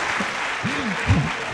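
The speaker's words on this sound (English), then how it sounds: "Okay, give applause." An audience at a guest lecture on educational leadership claps in a short burst of applause, with voices talking over the clapping.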